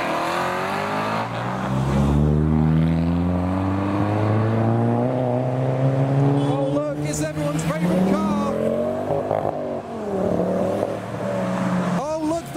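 A Suzuki revs hard at a business-park roundabout as cars leave a meet, engine note climbing and falling in long sweeps, loud and close, with other engines passing and voices of onlookers over it.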